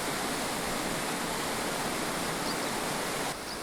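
Korbu waterfall in Altai roars as a dense, continuous rush of falling water, loud and steady without pause, with no voices over it.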